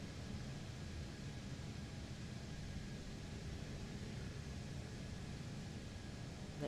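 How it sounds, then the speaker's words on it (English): A steady, faint broadband roar comes from Airbus A380 engines as heard inside the cabin in a flight simulator, holding constant and unbroken throughout. "Right, so this is the cabin. The engines are really loud."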